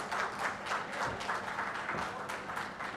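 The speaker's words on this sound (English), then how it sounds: "give a big round of applause for him" An audience at a Pravasi Odia community event in Delhi claps for an arriving guest, a soft, rolling round of applause heard at a distance with uneven pulses.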